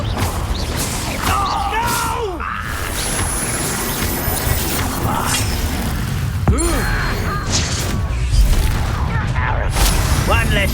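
A Confringo spell blast in Hogwarts Legacy amid duel combat, booming impacts and crashes under a dense layer of game effects, music and spoken lines.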